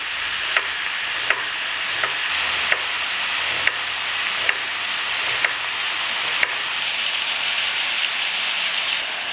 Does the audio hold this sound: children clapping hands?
no